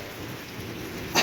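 Rain falls steadily during a thunderstorm, with a continuous hiss of drops striking surfaces and a brief louder burst near the end.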